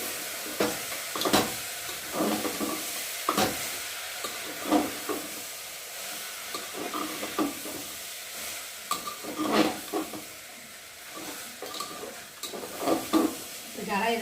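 Rice and lentils for khichuri fry in oil and spices while being stirred, giving a continuous sizzle broken by repeated scraping strokes and clinks of a utensil against the pot; no one speaks.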